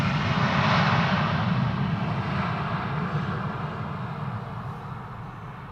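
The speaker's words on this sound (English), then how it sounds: "the 79-year-old Dakota, which is doing a tour flight DC-3 from the Dutch Dakota Association" A 79-year-old Douglas DC-3 Dakota propeller airliner on a tour flight drones steadily and loudly at close range, its broad engine roar peaking early and then easing slightly as it passes.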